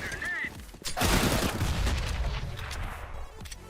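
CZ75 pistol in CS:GO firing a rapid burst after a short electronic chirp, sharp cracks running together into a dense rattling volley that fades over the last second.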